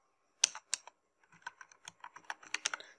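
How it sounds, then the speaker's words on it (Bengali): Fingers type an email address on a computer keyboard, a few separate close key taps followed by a quicker run of light clicks with no talk. "তারপর এখানে আমি আমার ইমেল অ্যাড্রেস লিখবো"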